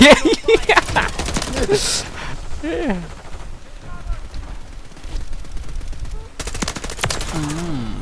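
Rapid bursts of automatic gunfire and single shots in a Call of Duty Warzone match, loud and close, with excited voices talking over and between the firing.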